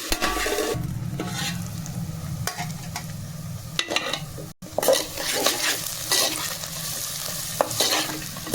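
Onions and green chillies fry in a covered pan for mutton keema curry, giving a steady close sizzle with intermittent stirring clinks and scrapes and a brief break midway, with no talk.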